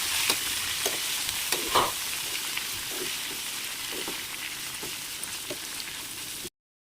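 Steady sizzling of chopped ivy gourd frying in hot tempering oil, with occasional scraping stirs of a spatula in the pan, close and continuous, then it cuts off.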